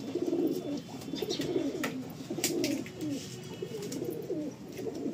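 A Fulshira pigeon pair coos in soft, repeated rolling phrases, close and steady throughout, with faint chirps and light rustling in the background.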